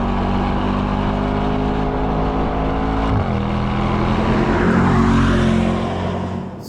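Mercedes-AMG GT63 Coupe engine heard from inside the cabin, a loud sustained drone that holds steady, dips briefly midway as revs shift, then builds again before easing off at the end.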